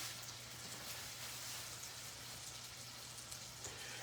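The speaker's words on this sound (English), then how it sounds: "when you just pan sear it like this" A salmon and Fuji apple burger pan-searing, giving off a steady, soft hiss and crackle of frying with a faint low hum underneath, close by and continuous with no talking.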